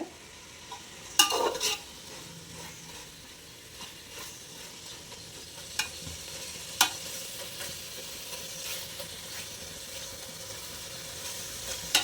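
Masala for a mutton biryani gravy fries in oil with a soft, steady sizzle. A utensil stirs it with intermittent scrapes and sharp clinks against the pot throughout, fairly quiet and with no talking.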